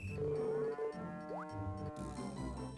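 A cartoonish cow moo from the Harvest Moon DS farming game, a long pitched call with a clear harmonic stack and a brief rising glide, repeating through the short clip with game music underneath.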